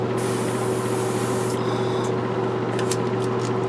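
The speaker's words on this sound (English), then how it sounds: "I got it in a spray airbrush" An airbrush sprays light gray paint with a steady, close hiss over a low motor hum, cutting off once, then resuming in short, sputtering bursts.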